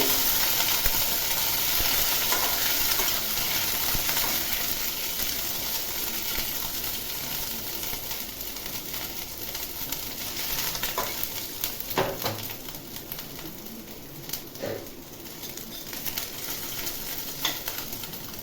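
Pointed gourd (parwal) with crushed ginger and green chili frying in a pan over a low gas flame: a steady, soft sizzle with occasional scraping stir sounds, no voices.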